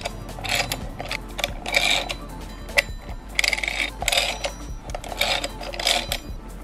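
A regular hand wrench snugs down the clutch bolts of a twin-disk clutch kit on an S85 V10-swapped BMW M3, producing close, repeated bursts of metallic ratcheting clicks in an uneven rhythm, with no one talking.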